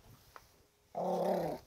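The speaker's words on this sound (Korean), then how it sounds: "네가 왔으면서 으르렁이야." A dog gives one low, rough growl lasting under a second, close and fairly loud after a brief quiet moment with a faint click.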